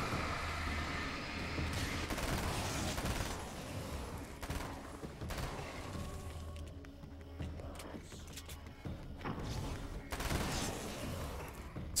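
SMG firing full auto in the game Alan Wake's American Nightmare, with dense bursts of rapid shots crackling across the whole stretch amid shifting game noise, fairly faint and with no voices.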